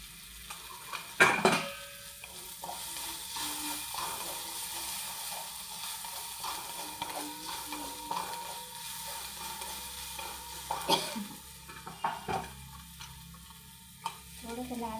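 Turmeric stirred into aloo palak sizzling in a pan, a soft steady fry with a spoon clinking and scraping against the metal now and then, close and fairly quiet.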